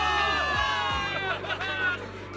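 A crowd of soldiers cheers for victory in the video game Zenless Zone Zero, a loud, layered mass of voices with whoops rising and falling over about two seconds.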